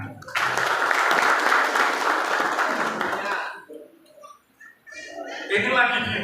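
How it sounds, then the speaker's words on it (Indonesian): Audience at a Pemuda Pancasila gathering in Banyumas breaks into loud, dense clapping for about three seconds, then it fades to scattered claps and murmuring voices. "Tepuk tangan."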